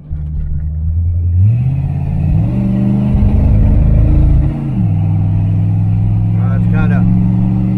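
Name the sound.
1977 Chevrolet Malibu Classic engine accelerating on test drive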